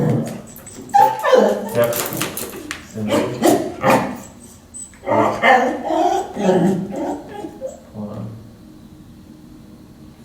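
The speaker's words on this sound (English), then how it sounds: "So that barking and stuff is residual." A dog with separation anxiety barks in short bursts and whimpers and yips between them, close and fairly loud, while a person speaks briefly.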